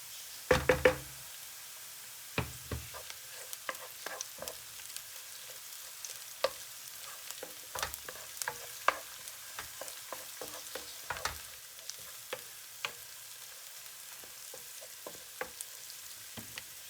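Butter and tomato paste sizzle softly in a pan while a utensil knocks and scrapes, with a cluster of louder taps at the start followed by scattered clicks over a faint steady frying hiss.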